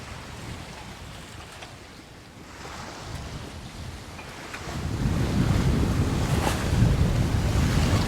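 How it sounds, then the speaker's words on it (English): Wind roars across the microphone while waves surge and wash past a sailing yacht crossing the Gulf of Patras in Greece, a steady rushing noise that swells louder and heavier in the second half, with no voices. "So the wind speed is picked up a little bit."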